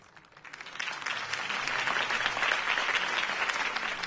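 Crowd applause in the Batman Telltale Series game swells up after a quiet start and holds as a thick, steady wash of clapping for several seconds.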